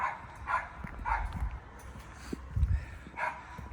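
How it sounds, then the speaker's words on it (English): Street dogs barking outdoors in a Sofia neighbourhood, several sharp barks and yips spaced irregularly at moderate distance over low rumbling background noise. "Some more street dogs. I don't know these ones."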